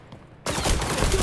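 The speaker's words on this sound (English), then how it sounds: "I'm literally being shot at." Gunfire in the video game XDefiant: after a near-silent moment, a burst of rapid shots erupts suddenly and continues loudly as sustained fire.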